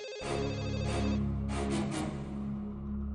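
A telephone rings in a Hindi TV drama scene, a steady electronic ringtone repeating in bursts through the clip, fairly loud and alone with no talk over it.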